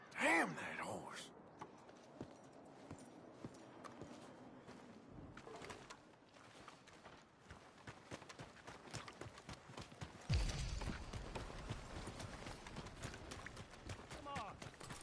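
Horse hooves clip-clop at a walking pace in the open world of Red Dead Redemption 2, a steady, moderately close rhythm running under intermittent talk and ambient game sounds, with a louder stretch toward the end.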